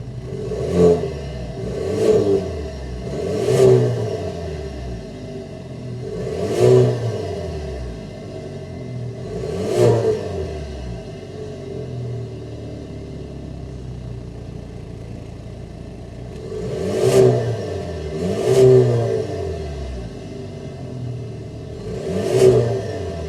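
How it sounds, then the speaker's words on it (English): A turbocharged 2022 Cadillac CT5 sedan's engine revs repeatedly through the exhaust in sharp bursts, rising and falling roughly every couple of seconds over a steady idle, with a pause midway before more revs. "Let's see how that exhaust note sounds."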